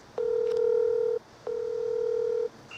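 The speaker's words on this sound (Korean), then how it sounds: "제가 그 주무관님한테 한 전화를 해볼게요" Telephone keypad tones sound as two long, steady beeps with a short gap between them, loud and clean over faint background hiss while a number is dialed for an office call.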